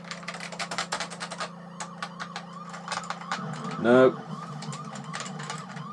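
A police car siren from the Amiga game F40 Pursuit Simulator, a steady electronic wail with a louder rising burst, mixed with rapid keyboard tapping and a brief spoken word.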